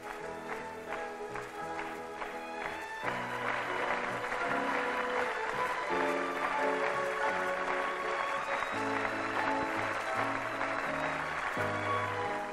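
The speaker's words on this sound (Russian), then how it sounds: "зал взорвался аплодисментами" A packed congress hall in 1978 breaking into sustained applause as cosmonauts appear at the rostrum, a steady roar of clapping under strong sustained tones that sound like accompanying music.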